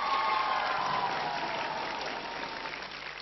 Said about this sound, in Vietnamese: Hãy cho những một tràng pháo tay.